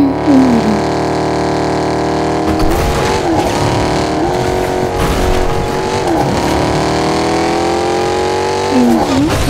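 A video game car engine in Fortnite revs and accelerates loudly, its pitch climbing and dropping through gear-like sweeps, with a brief tire squeal amid the driving noise.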